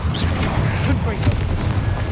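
Confringo explosive spell cast in Hogwarts Legacy, a deep booming blast rumbling under steady game noise, with a voice talking over it.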